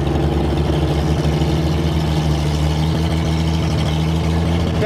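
A 1962 AMC Rambler engine revived after about 50 years runs steadily at a rough idle, with a dense continuous drone and low rumble close by, a sticky choke and carburetor trouble noted, and no talk.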